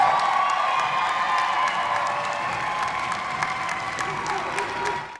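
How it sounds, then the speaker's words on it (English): Sustained audience applause at an evening ceremony for nurses, a dense steady clatter of many hands with scattered cheers and whoops, holding strong for several seconds before tapering off. "A round of applause again before we even say another word tonight."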